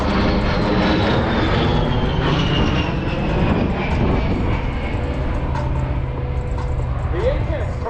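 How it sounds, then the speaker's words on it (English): A USAF A-10 Thunderbolt II flies an air show demonstration at the Stuart Air Show. Its turbofan engines give a loud, steady roar with a slowly falling whine, and a narrator speaks over it throughout. "The A-10's turbofan engines add more than just power to its performance."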